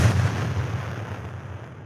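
Deep well reverb impulse response played back, a booming low thud that rolls into a long, dark, slowly decaying rumble, heard alone without talk.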